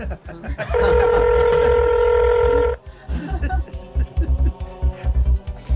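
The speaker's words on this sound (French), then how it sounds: "Je vais appeler chez Denise." A telephone rings with one long, loud electronic tone lasting about two seconds. A low, irregular thumping follows, and voices can be heard in the background.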